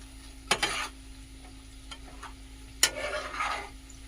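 A spoon stirs a chicken pickle mixture in a pan with a soft sizzle beneath, two distinct scraping bursts standing out against a steady low background hum.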